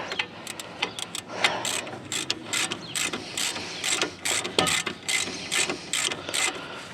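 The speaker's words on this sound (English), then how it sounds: "And I have an extension ratchet here." Extension ratchet working on caliper bracket bolts on the front wheel of a 2002–2011 Chevy Aveo, giving close, sharp ratcheting clicks in uneven bursts of strokes.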